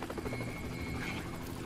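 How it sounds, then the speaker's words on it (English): A helicopter in the video game GTA 5 Online drones with a steady rotor thrum and turbine whine, loud and continuous throughout with no talking. "In the chopper."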